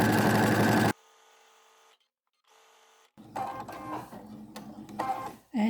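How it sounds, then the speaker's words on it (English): A sewing machine top-stitching around a triple-layer fabric face mask whirs loudly for a second, falls nearly silent, then resumes in uneven rattling bursts of stitching. "I'll just sew all the way around, top stitch and close the top edge."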